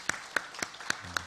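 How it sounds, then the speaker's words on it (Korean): A few slow, separate claps from a church congregation welcoming a new minister, five sharp hand claps spaced evenly and fairly close, with no talk. "우리 인사해 주시고 환영 박수 해주시면 감사하겠습니다"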